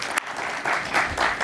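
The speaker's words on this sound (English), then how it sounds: "Let's give Professor Malik another round of applause." Lecture audience applauding in a room after an academic talk on pollution, a dense steady wash of clapping running the full short stretch without pause.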